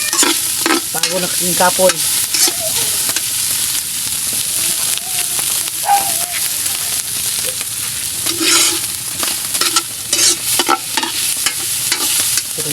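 Ginger fries in a pan with a loud, steady sizzle broken by repeated stirring scrapes and clinks, while someone speaks briefly over it.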